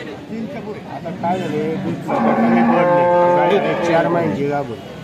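A four-and-a-half-month pregnant cow moos loudly at a busy cattle market, with long drawn-out calls rising in the second half while people talk and chatter around her.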